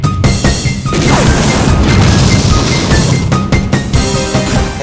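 Sand Attack move effect from the Pokémon Colosseum game: a loud, sustained crashing rush of noise that swells and holds for several seconds, with sharp hits at the start and near the end.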